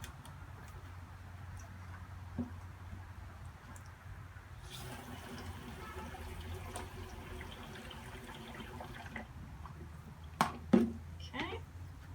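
Water runs and splashes into a plastic water brick storage container along with a little soap, a steady moderate pour with some clunks near the end; no one talks over it.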